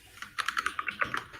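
A computer keyboard clicks in a quick irregular burst of about a dozen keystrokes, close and clear against a quiet room.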